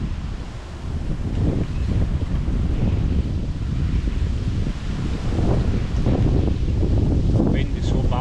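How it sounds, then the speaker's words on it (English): Strong wind buffets the microphone at a fishing spot during a fishing festival, a loud continuous rumbling roar that fills the whole clip with no clear voices. "The wind is so bad, man."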